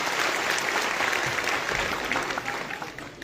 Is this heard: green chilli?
no